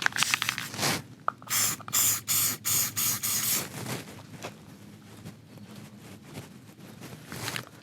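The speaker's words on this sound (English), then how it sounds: "I'm going to spray 3 or 4 squirts of blue spray paint into the lid" Blue spray paint hisses into a lid in several short, evenly spaced, loud bursts, followed by quieter rustling and handling as the paint is flung onto a rat target.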